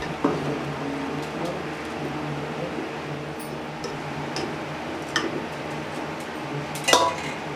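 A spoon scrapes and clinks against a pot while stirring pheni vermicelli with milk, producing light, scattered metallic taps over a steady low hum, with a sharper clatter near the end.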